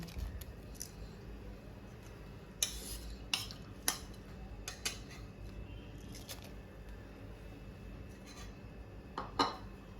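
A spoon stirs rice kheer in a pot over a full gas flame, making sparse, light metallic scrapes and clinks against a faint, quiet background.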